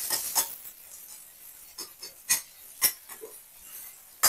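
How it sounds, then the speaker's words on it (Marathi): Spoon stirring red chilli powder and turmeric into sautéed onion and tomato in a pan, a series of scattered scraping strokes and soft taps, close and quiet, with irregular sharper scrapes. "मसाले चांगले परतून घ्यायचे."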